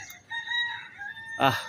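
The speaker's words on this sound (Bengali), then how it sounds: "কত সুন্দর মোরগের ডাক।" A close rooster at Lalbagh Fort in Old Dhaka gives a full cock-a-doodle-doo at dawn, rising and falling, over faint ambient noise, with a sharp loud burst at the end.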